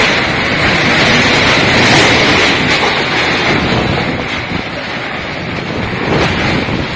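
A whirlwind storm striking Kupang city, a dense, loud, continuous roar of wind with heavy gusts battering the microphone, steady throughout with no clear speech.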